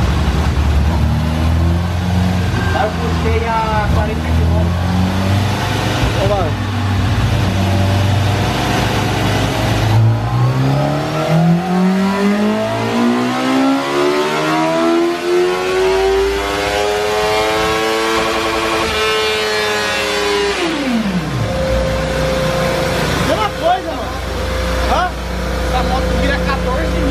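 Honda Fan 600R motorcycle accelerating hard in third gear, engine pitch sweeping steadily upward for about ten seconds before dropping sharply as it lets off, loud and close with background voices throughout.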